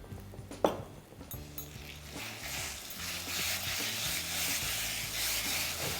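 Jackfruit biryani masala mixed with yogurt in a pan gives a steady sizzle and scraping stir, starting with a sharp clack and swelling into continuous frying noise with faint background clatter and no voices.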